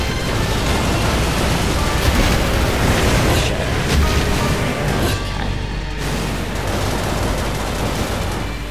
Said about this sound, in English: We also have these buildings and bits of boats, I guess, that are being crashed around.